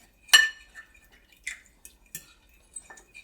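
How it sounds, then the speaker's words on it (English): A spoon stirs marinade in a bowl, giving a few sharp close clinks and scrapes against the bowl with short quiet gaps between them. "We'll give it a quick stir."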